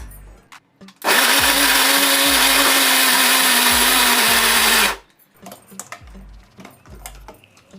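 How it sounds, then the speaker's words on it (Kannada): Mixer grinder whirring loudly for about four seconds as it grinds a dry tamarind rice (puliyogare) spice mix, with clinks and handling before and after. "ಇದನ್ನೊಂದು ರೌಂಡ್ ಮಿಕ್ಸಿ ಮಾಡ್ಕೊಂಡು"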